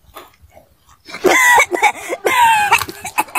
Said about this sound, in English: Man, you've been coughing for weeks.